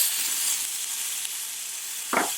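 A ground beef burger patty sizzles steadily on a hot surface for a cheeseburger, a close, even hiss ending in a short dull thump as it is pressed down; no one speaks.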